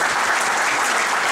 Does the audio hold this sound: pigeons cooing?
no